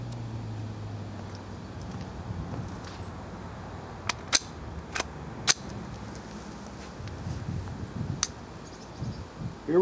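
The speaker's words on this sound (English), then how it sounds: "So we'll take a few shots and see where this gun's shooting." .22 rifle shots fired at a target 20 yards away: several sharp, fairly quiet cracks spaced a second or so apart over an outdoor background with light rustling.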